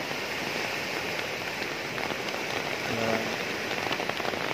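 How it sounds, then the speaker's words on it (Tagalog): Heavy rain pours steadily during sudden flooding, a dense, loud, unbroken hiss of drops hitting surfaces that fills the whole stretch without pause or speech. "grabe ang ulan kasi ngayon eh, napakalakas"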